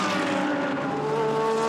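A Ferrari GT race car in a Blancpain GT Series race at Monza roars past at speed, a loud sustained engine note sliding in pitch as it passes, with no voices.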